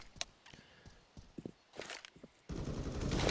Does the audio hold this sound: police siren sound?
no